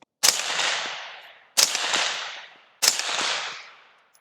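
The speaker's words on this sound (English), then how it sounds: "So let's go ahead and shoot a few rounds through it and see how it sounds." Three 5.56 rifle shots fired through a TiTrex 360Ti titanium suppressor, each a sharp loud crack followed by a decaying roar, evenly spaced about 1.3 seconds apart, with no talking.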